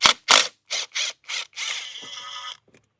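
Ratchet working a 30 millimeter bolt on a 2007 Nissan Maxima, several sharp separate clicking strokes followed by a longer continuous ratcheting whir, close and clear with no talk.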